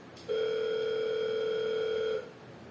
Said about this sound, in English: Daniel's phone rang again.